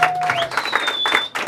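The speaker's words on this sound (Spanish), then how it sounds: "El aplauso bonito para el señor Olivo." Brief burst of applause from a small family gathering at a birthday party for Mr. Olivo, mixed with crowd noise and a whistling tone, clapping in uneven bursts close by.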